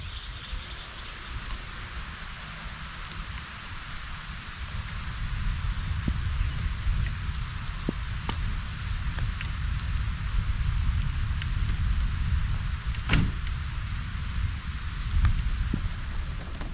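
Heavy rain drums on a camping truck at night during a thunderstorm warning, a dense steady hiss with a few sharper drop hits, swelling louder partway through and continuing alone without voices.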